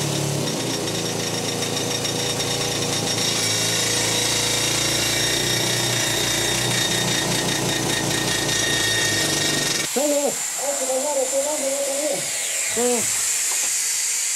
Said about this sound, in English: The pneumatic hammers are powered by compressed air produced on the surface.